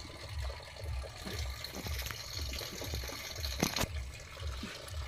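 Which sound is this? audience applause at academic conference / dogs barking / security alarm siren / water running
water running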